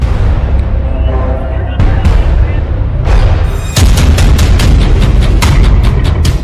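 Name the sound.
bombs and missiles exploding in air strikes on Yemen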